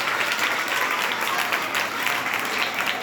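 A crowd applauds loudly at a public speech event, dense continuous clapping held evenly from start to finish.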